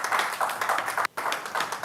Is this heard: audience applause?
yes